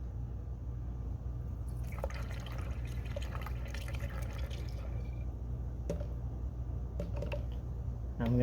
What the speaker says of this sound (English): I'm gonna go ahead and pour this down in here now.